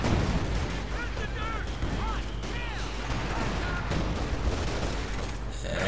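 A light artillery strike in Company of Heroes 2 during a British forces 2v2 battle, a dense roar of explosions and gunfire blended with whistling shells and mechanical battle noise, with a voice talking over it.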